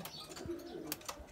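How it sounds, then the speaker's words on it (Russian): Pigeons kept in a cage give a few soft, low coos at close range, faint against a quiet background with light rustling. "У меня здесь сидят голуби в клетке на паровку."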